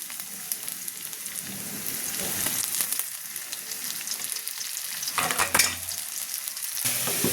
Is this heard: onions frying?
yes